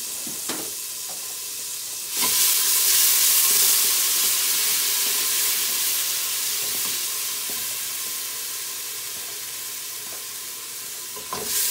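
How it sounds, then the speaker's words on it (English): A tablespoon of chopped garlic drops into hot olive oil in a pan and bursts into a loud, steady sizzle that eases slowly while frying, with no voices. "Once your pan gets hot, you can just add some olive oil. And I'm going to add about a tablespoon of chopped garlic."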